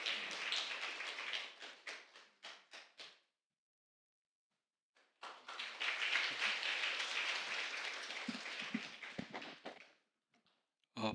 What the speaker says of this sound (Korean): 우리 큰 박수로 우리 임문환 장로님 환영해 주시면 감사드리겠습니다.